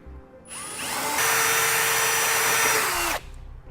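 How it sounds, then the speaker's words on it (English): A power drill with a 9/16 bit enlarges a hole in the frame of a 2015 Chevrolet Express van during trailer hitch fitting: a steady, loud whine runs about two and a half seconds, rising in pitch and then falling as it stops. "So to enlarge this hole, I'll just use a 9/16 drill bit."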